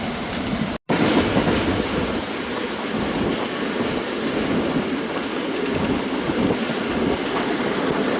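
Pak Express passenger train in Pakistan running on rails near Harappa station, heard from inside as a loud continuous rumble with rattling clickety-clack. A brief drop-out comes near the start, and no one speaks.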